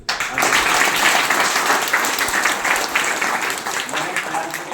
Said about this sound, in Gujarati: આપણે એમને જોરદાર તાળીથી એમને વધાવીશું